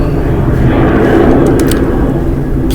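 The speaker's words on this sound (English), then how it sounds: "I'm under a flight path and there's an aircraft going by" An aircraft passes overhead along a flight path, heard as a loud, steady, broad engine rumble and roar filling the whole moment outdoors.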